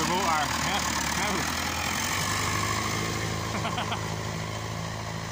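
A Nuffield Universal 4 tractor engine runs steadily, a continuous low rumbling idle with even texture throughout, heard close with outdoor background noise.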